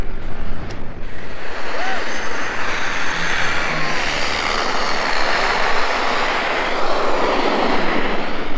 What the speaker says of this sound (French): l'avion qui passe juste à côté.